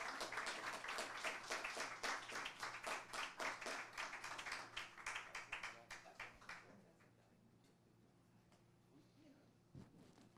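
Applause from an audience at a tribute ceremony for a professor, with dense rhythmic clapping for about six seconds that thins and fades into quiet room noise, one last clap near the end.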